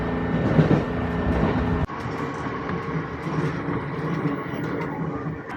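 Local train in Japan rolling toward Shiozawa, a steady rumble of wheels on rails heard from inside the carriage, with a brief jolt partway through.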